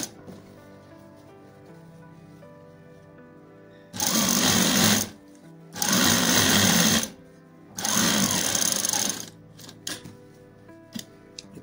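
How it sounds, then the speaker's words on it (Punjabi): An electric sewing machine stitches a langot in three steady bursts of about a second each, separated by short pauses, with a quiet room hum in between and no talking. "ਹੁਣ ਆਪਾਂ ਇਹਦੀ ਸਿਲਾਈ ਉਰੋਂ ਸ਼ੁਰੂ ਕਰਾਂਗੇ"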